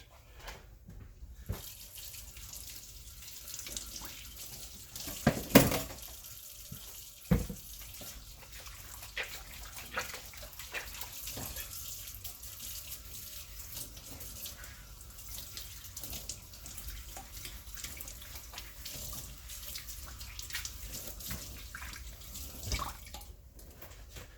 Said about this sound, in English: So clean that up with my knife and wash my hands a little bit.